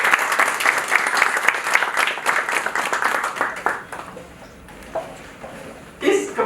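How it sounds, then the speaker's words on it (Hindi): An audience at an indoor poetry recitation contest applauds with dense, energetic clapping that thins out and fades, then a short spurt of claps and a brief voice. "जोरदार तालियों से आपके कार्यालय पर"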